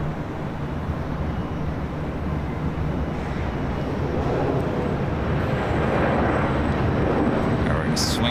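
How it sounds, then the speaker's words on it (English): An Air Canada Airbus A321 arriving from Vancouver at LAX produces a loud, continuous broadband jet roar that swells gradually, mixed with heavy wind buffeting on the microphone. "Our next arrival is Air Canada, flight 552, coming in from Vancouver, an"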